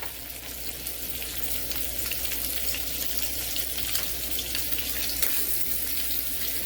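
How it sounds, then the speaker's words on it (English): Sausage with fennel sizzles in a pan over medium heat, a constant crackling fry that stays even and fairly quiet throughout. "just throw that sausage in there"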